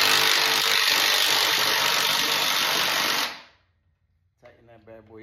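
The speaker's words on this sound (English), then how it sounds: "Now I still have the same 10 millimeter on here, but just on an impact wrench" Impact wrench fitted with a 10 mm socket runs in a loud, continuous buzzing burst for about three seconds and then stops, followed by brief talking.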